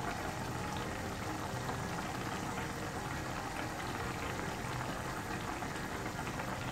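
Fish bhuna curry simmers in a pan, giving a constant, fairly quiet bubbling and hissing that holds steady and unbroken with no voices.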